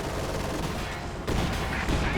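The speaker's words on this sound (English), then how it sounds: "Shots plinking away there" Gunfire in Company of Heroes 2, a dense burst of overlapping shots and rattling fire that thickens partway through, loud and continuous with no clear voice over it.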